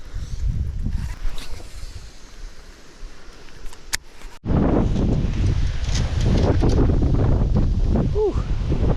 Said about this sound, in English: Super windy. Windy and gusty.